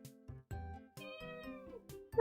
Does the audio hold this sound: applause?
no